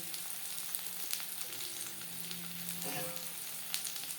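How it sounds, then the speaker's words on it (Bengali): A soft, steady sizzle of bitter gourd frying in oil over a low to medium flame, with faint crackles and a few light pops, quiet and continuous. "উচ্ছে ভাজবো লো টু মিডিয়াম ফ্লেমে"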